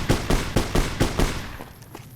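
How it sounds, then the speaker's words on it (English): Distant burst of gunfire in the Mojave wasteland of Fallout: New Vegas, roughly six sharp cracks in a steady rhythm over about a second and a half, then fading to quieter scattered pops. "We got somebody shooting somewhere."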